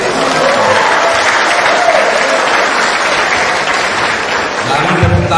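Dense, steady applause fills a school hall during a provincial governor's visit to a vocational high school in Ende, loud and continuous with voices audible beneath it.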